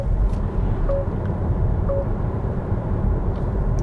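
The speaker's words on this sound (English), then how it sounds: "That was the speed limit warning." Volvo car speed limit warning chime, two short, clear electronic tones about a second apart, heard inside the cabin over a steady road and motor hum.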